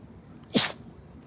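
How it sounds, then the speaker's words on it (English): A dog sneezes once, a single short, sharp sneeze against a quiet background, close and fairly loud. "She usually doesn't sneeze."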